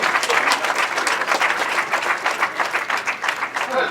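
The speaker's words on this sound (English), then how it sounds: "big round of applause, everybody" A crowd at a grasstrack racing meeting applauds riders at the podium ceremony, a loud, sustained outdoor burst of many hands clapping with a rippling rhythm and no clear voices over it.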